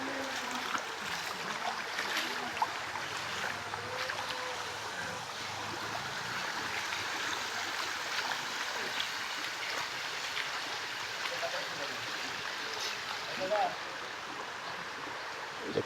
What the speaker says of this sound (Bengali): সেই পানির স্রোত এখানে আসতেছে